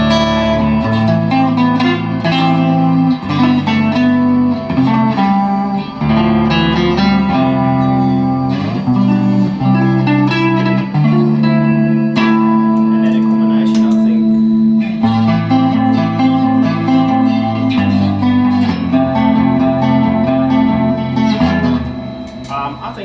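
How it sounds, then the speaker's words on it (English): Electric guitar chords through a shimmer reverb pedal ringing out with a lush, shimmering reverb tail that sustains and layers between strums, loud and continuous throughout. "It's got a spring reverb, and it's also got a shim reverb."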